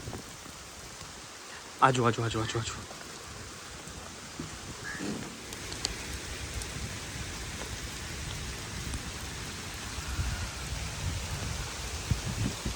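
Heavy rain pours steadily on a mud house in a Punjab village, a dense continuous hiss throughout, with a voice calling repeatedly near the start and brief handling knocks.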